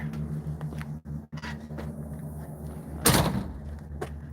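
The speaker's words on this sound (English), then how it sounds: "to go out this door" A house door opens and closes as someone steps outside, with a soft low rumble of room background, a couple of faint thuds, and then one louder, close bang of the door near the end.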